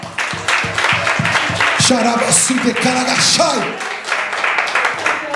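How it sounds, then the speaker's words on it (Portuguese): A church congregation bursts into applause and shouts, with dense clapping building and holding for several seconds while a voice calls out over it. "Será que você pode dar uma salva de palmas para o Senhor?"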